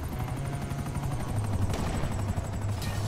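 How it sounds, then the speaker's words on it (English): An enemy helicopter in GTA 5 approaches, its rotor producing a steady rapid chopping thrum that stays loud and constant through the short stretch, with no talking. "one of the enemy helicopters is flying straight towards us"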